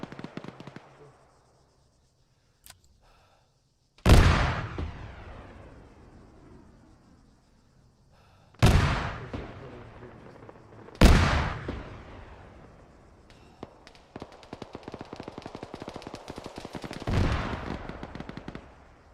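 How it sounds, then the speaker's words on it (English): Heavy enemy gunfire in the military game Arma, several loud nearby bursts and explosions with long echoing tails across open ground, separated by quieter gaps and ending in rapid sustained automatic fire. "The best bushes are being saturated with enemy fire."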